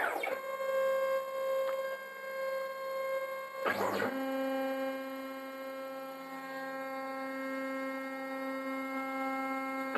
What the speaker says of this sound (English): The X and the Y motors make much more noise than the Z motor